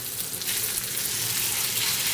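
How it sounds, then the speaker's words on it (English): Steak sizzling on a grill, a dense, steady hiss of searing meat that stays constant and close throughout the short moment, with no talking. "you can add the meat to the grill"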